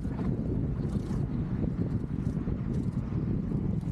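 Strong wind blowing hard against the microphone outdoors in northern Iraq, a loud continuous low roar and buffeting with no pauses, heard alone.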